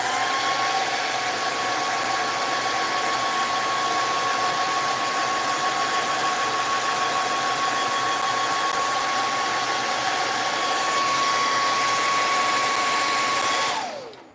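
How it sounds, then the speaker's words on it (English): A hair dryer blows continuously for about fourteen seconds, a loud, steady, broadband whoosh with a faint motor whine, close and unbroken, then switches off and quickly winds down. "I'm gonna have to get the hairdryer out, so it's gonna be noisy"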